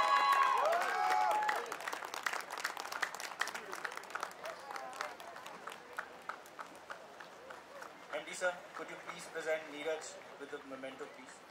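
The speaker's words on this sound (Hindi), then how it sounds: "तालियां रुकनी नहीं चाहिए इनके लिए" At a live drive-in music festival concert, an audience claps in a dense burst that gradually thins into looser, scattered clapping, while a voice speaks over it.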